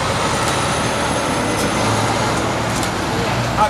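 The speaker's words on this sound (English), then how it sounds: "it's always been a problem with traffic noise" Steady roadway traffic noise rumbles outside a city press conference in Selma, with buses, trucks and cars making a continuous loud wash and faint talk barely audible beneath it.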